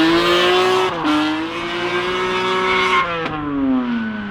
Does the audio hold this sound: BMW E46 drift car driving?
yes